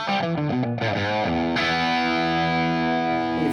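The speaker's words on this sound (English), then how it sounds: "has a British channel, more of like a Marshall style wiring" Electric guitar played through the British, Marshall-style channel of a Suhr Hombre amplifier, a few quick distorted notes falling into a loud, sustained ringing chord with heavy gain, no talking.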